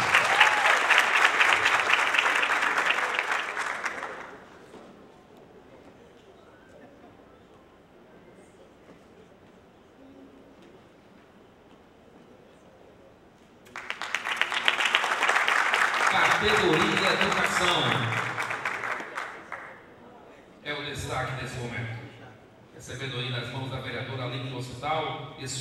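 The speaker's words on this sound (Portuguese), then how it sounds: "vamos aplaudir também toda a equipe da escola" An audience at a school award ceremony breaks into loud applause, pauses to near quiet, then claps again in a second long burst, with talking and music-like tones over the later clapping.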